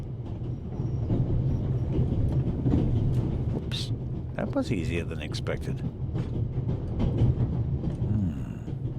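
A train carriage rumbles steadily on its rails in The Raven video game, a continuous low rolling drone with faint rhythmic clatter throughout, while someone speaks briefly over it.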